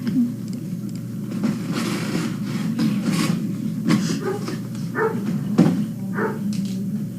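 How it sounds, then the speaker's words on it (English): A dog barks several times at a distance, irregular yips over a low steady hum, somewhat muffled as if from outdoors. "We have some dog outside barking"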